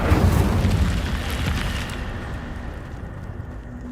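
The Incendio fire spell in Hogwarts Legacy bursts out as a loud, deep whooshing roar that fades over several seconds.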